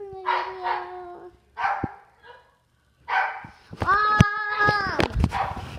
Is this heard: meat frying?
no